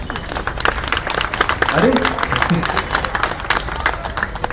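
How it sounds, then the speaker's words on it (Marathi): Scattered audience clapping rises at a Marathi lecture series event in Udgir, mixed with crowd murmur and a short spoken exclamation, the applause thin rather than thunderous. "उदगीरकर टाळ्या कमी वाजवतात मला मान्य आहे."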